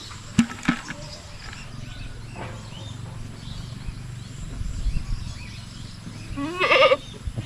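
A young goat in its pen on a small Filipino farm gives one clear, nasal bleat near the end, preceded by scattered knocks and low rustling.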